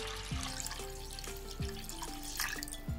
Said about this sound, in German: Dann kommt Wasser,